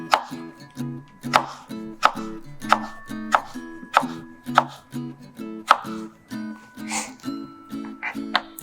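A knife slices repeatedly through firm apples onto a wooden chopping board, a steady series of crisp chops about every half second, close by with no talking.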